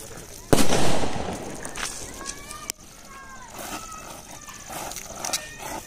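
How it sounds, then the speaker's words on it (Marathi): A string of firecrackers set off at a celebration: a sharp loud burst near the start and another crack midway, then a scattered crackle of smaller pops at a distance, with voices and whistling tones over the top. "अशा तऱ्हेने आता आशिष पेटवतोय ही फटाक्यांची माळ"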